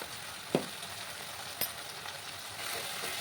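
Tomato masala with cumin powder sautéing in a pan, a continuous close sizzle with a couple of brief clinks from the spoon stirring it.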